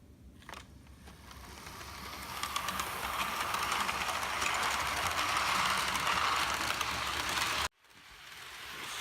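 A Hornby Mallard model locomotive runs at high speed on its track, a continuous close mechanical whirr and rattle that cuts out abruptly near the end and then resumes.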